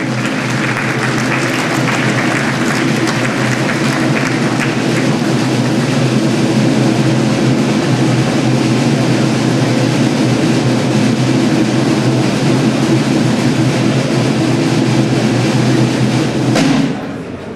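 A large indoor audience gives sustained applause at an award ceremony, a dense, loud, even roar of clapping that carries on for many seconds before cutting off abruptly.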